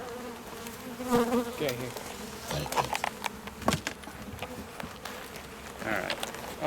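Honey bees buzz steadily around an open beehive during an inspection, with a soft droning swarm close by and faint clicks and rustles of handling. A person speaks briefly.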